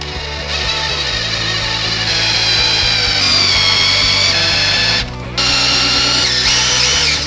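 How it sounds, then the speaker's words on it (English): A power drill runs steadily, drilling out a part during a Coyote swap PCM install on a Foxbody Mustang restomod, with a loud continuous whine, a brief pause near the five-second mark, then more drilling. "so let's drill this out and try this out."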